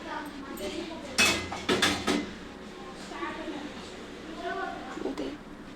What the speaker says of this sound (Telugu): దీనిలో మూత పెడతా